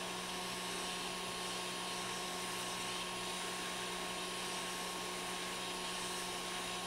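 A hot air rework station blows steadily on a circuit board during microsoldering, a constant broadband hiss with a faint steady whine, loud and unchanging from start to finish with no voices.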